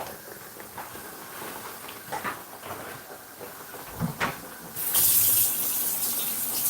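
A kitchen tap runs while plantains fry, with low clatter and soft knocks at first before water suddenly gushes loudly and steadily for the last couple of seconds.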